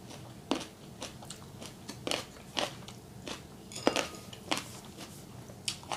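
Tomato pieces from tom yum instant noodles with pork are bitten and chewed close to the mic, giving a run of soft, irregular crunchy bites and wet chewing clicks that come about every half second.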